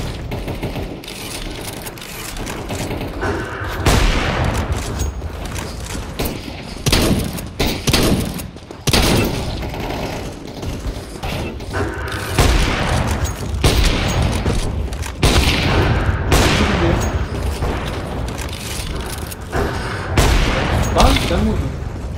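Counter-Strike gunfire crackles in dense, loud bursts and rapid automatic volleys with heavy thumps throughout, mixed with game effects while a player talks over it.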